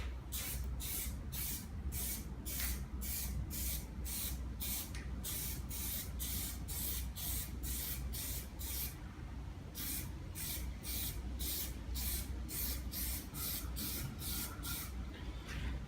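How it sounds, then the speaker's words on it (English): Black Plasti-Dip aerosol sprayed onto car taillights in a long run of short, evenly spaced hissing bursts with brief pauses, close and fairly quiet, no talking. "So I'm going to do a little test spray."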